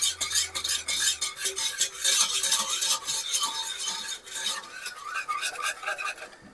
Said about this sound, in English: So whisk all that together so the sugar melts nicely, so you don't get big granules in your pudding.